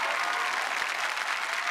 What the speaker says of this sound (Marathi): हिच्या पालकांसाठी पण जोरदार टाळ्या.